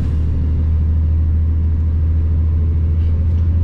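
A Blue Energy Motors LNG truck climbing a steep incline in third gear, its engine a steady, loud, deep rumble heard from inside the cab with no break.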